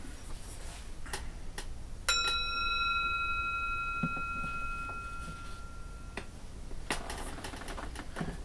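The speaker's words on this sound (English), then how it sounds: "I'm going to ring the bell." A meditation bell is struck once, giving a clear, bright chime that rings on and slowly fades over several seconds against a quiet, hissy room background with a few faint clicks.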